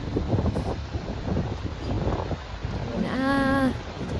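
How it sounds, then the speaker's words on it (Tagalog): Steady, heavy wind from Typhoon Verbena in Negros Occidental roars and buffets throughout, with rustling gusts and a brief tonal whine near the end. "Super lakas ng hangin."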